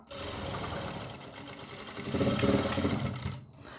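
A sewing machine stitches a strip of fabric for a kitchen apron, a steady close mechanical whirr of rapid needle strokes that swells slightly louder near the end before stopping abruptly.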